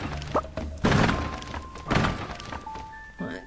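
Objects are smashed in Stardew Valley: a few dull, hollow thunks and knocks at irregular intervals over soft game background tones and chimes, with no one talking.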